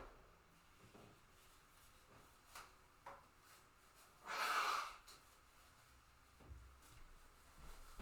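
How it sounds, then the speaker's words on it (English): A person blows their nose once in a short, loud, breathy burst midway, set against a quiet room with faint rustles and small knocks before and after. "had to blow my nose"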